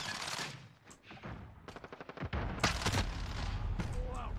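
Video game gunfire from a Vector with a .45 caliber 2-round burst magazine: rapid loud bursts of shots in a busy battle mix, with a quieter stretch at the start.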